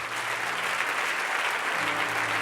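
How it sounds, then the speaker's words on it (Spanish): A church congregation claps together as an offering to the Lord, a steady dense wash of applause filling the whole moment without pause. "Vamos a darle un aplauso de ofrenda al Señor"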